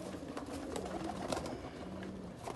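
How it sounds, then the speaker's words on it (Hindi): Pigeons of breeder stock, including Teddy and Sialkoti types, coo softly in a loft in Faisalabad, with low murmuring calls repeating over a busy background of rustling and faint noise. "दो तीन कबूतर नीचे आ गए"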